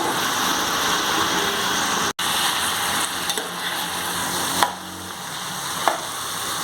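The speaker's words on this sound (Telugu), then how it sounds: "ఆనియన్స్ వేసుకుంటున్నానండి. ఇవి మంచిగా ఫ్రై చేసుకుందాం." Onions frying in a pan for chicken curry, a steady broadband sizzle with a few brief stirring knocks, no voices.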